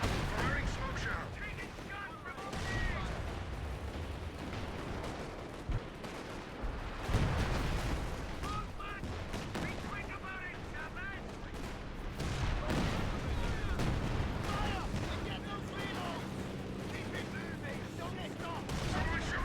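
Rapid bursts of rifle and machine-gun fire with artillery booms in a 4v4 Company of Heroes 2 battle, dense and continuous throughout, with soldiers' voice lines calling out over the combat.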